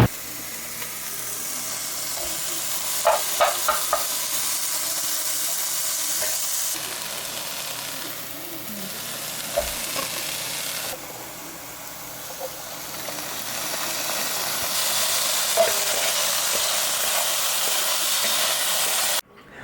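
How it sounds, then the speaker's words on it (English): A steak stir fry sizzles steadily in a pan, a constant close frying hiss with brief stirring clatters near the start and a few shifts in intensity, no talking. "This is a steak stir fry."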